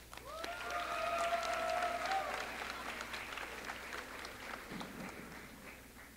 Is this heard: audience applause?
yes